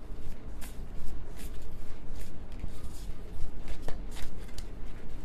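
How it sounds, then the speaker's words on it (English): Soft, irregular riffling and flicking of a tarot deck being shuffled by hand, a quick run of papery bursts close by with no talking. "I'm having a hard time shuffling"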